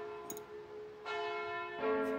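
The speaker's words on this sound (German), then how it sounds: "Verkündigt ihr dumpfen Glocken schon des Osterfestes erste Feierstunde?" Church bells ring for Easter, a few resonant strikes with long humming tails, each new peal swelling over the fading one, moderately loud and without voices.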